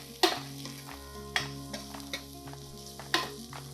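Shallots soften in a frying pan with a low sizzle, while a utensil scrapes and stirs through them in a few distinct, spaced strokes, close by and fairly quiet.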